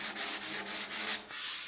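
Sandpaper of 150 grit is rubbed over a motorcycle fuel tank, a close, raspy scratching in quick back-and-forth strokes, about six passes in under two seconds.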